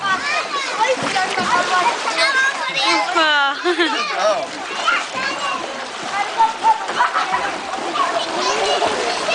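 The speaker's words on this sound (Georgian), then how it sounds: "ეხა ნახე როგორ ცურავს ლილუ" Water splashes and sloshes as someone swims, with bursts of splashing close by under lively children's voices and adult talk.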